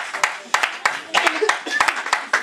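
A church congregation claps in uneven bursts to acclaim the Lord, sharp hand claps rising and falling, mixed with voices and shouts from the crowd, close and lively.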